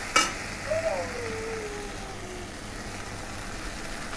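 Food frying in a pan in a home kitchen, a soft, continuous sizzle with a faint stir or clatter near the start, low and steady throughout.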